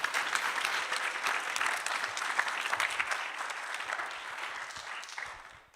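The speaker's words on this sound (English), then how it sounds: "Let's give her a big round of applause." Applause from a church congregation during a Sunday service fills the room, steady clapping that holds strong throughout and tapers slightly at the end, with no talking over it.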